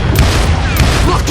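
Gunfire from a Western shooter game, Call of Juarez Gunslinger, with booming shots repeating roughly every half second over a dense, loud battle background.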